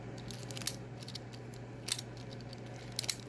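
A 3D printed fidget roller gives off small sharp plastic clicks, in short clustered bursts at roughly one-second intervals, close and fairly crisp over a steady low hum.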